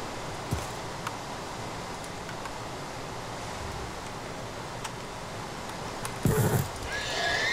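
Horse in Minecraft heard through scattered soft clip-clop steps and ticks, then a loud whinny near the end, close and clear with no talking.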